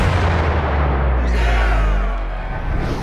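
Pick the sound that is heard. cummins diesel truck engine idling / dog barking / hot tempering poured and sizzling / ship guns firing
ship guns firing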